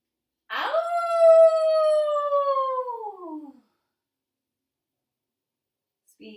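A person imitating a dog with one long drawn-out howl during a yoga practice, loud and clear, rising briefly and then sliding down in pitch before fading, followed by near silence.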